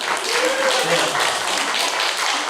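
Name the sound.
applause in a church service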